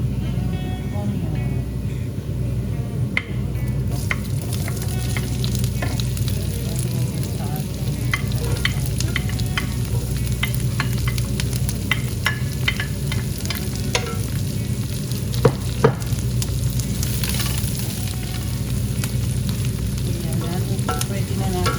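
Onion frying in a pan while being stirred for a Kapampangan fish sarciado, a continuous close sizzle broken by frequent scraping and clinking of the utensil against the pan, with a voice talking over parts of it.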